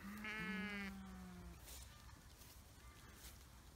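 Ewes bleating close by in a flock, one loud harmonic bleat early followed by fainter overlapping calls over steady outdoor background noise.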